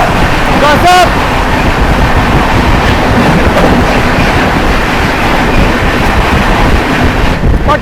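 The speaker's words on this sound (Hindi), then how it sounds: "दोस्तों सामने से आ रही है अपने से क्रॉस होने राजेंद्र नगर टर्मिनल नई दिल्ली पटना तेजस राजधानी एक्सप्रेस" The Patna Tejas Rajdhani Express rushes past at close range, a loud continuous roar of wheels and wind buffeting the microphone, with a brief horn-like tone near the start.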